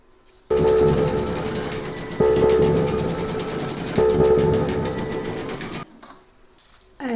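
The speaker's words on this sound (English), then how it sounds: "Load a matching bobbin and thread for the holly leaves into your machine, and then you're going to stitch round number 9." An embroidery machine stitching holly leaves on a large double-sided Santa applique, a loud steady whirring hum in three continuous runs separated by brief changes, then stopping with a quiet pause before restarting.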